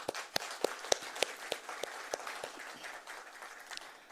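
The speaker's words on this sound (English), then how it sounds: "Let's give a round of applause to all of them." A scattered round of applause for music composers, songwriters and singers at a World Intellectual Property Day event in Bhutan, sparse and fairly quiet, a few distinct claps thinning out over four seconds.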